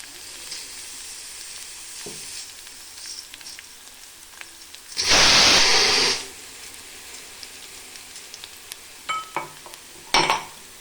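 Kirsali greens frying in oil with garlic, a quiet bed of sizzle broken by a loud hissing burst midway and a few sharp clinks of a stirring utensil against the pan.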